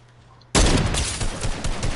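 A sniper rifle fires in a video game: a sudden loud, close blast cuts through a quiet hum and rolls on as a sustained, heavy rumbling tail, with no talking.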